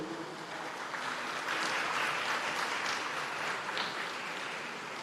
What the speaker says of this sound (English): give a further round of applause for our future generation from the Rose Art Preparatory School